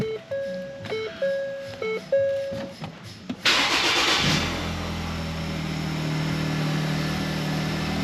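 A few electronic chimes beep, then the 1.5 EcoBoost Ford engine, after a water pump failure, cranks and catches, settling into a steady, rumbling idle.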